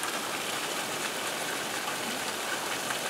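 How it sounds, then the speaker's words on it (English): Hard rain pours steadily during a garden storm, a dense, continuous hiss of drops striking surfaces at close range, loud and unbroken with no voices over it. "We're getting a fairly hard rain right now."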